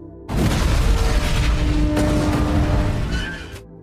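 A large explosion from a space film scene bursts in suddenly and loud, a roaring, rumbling blast that sustains for a few seconds before cutting off abruptly.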